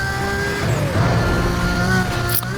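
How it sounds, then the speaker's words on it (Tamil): In the racing game NFS Most Wanted, a car engine roars loud and close, its pitch swooping up and down with revving and gear shifts, ending in a sharp burst of noise. "ஐயோ அந்த சத்தம் வேறு லெவலில் இருக்குது,"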